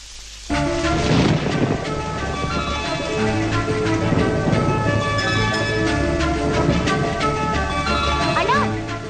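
Steady heavy rain with rumbles of thunder, loud and continuous throughout and starting abruptly, with a faint tinkling layer and no voices over it.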